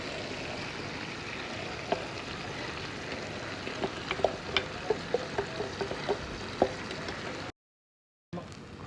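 Okra sizzling steadily in a frying pan, a continuous crackling hiss with scattered sharper pops, heard close and alone until a brief cut near the end.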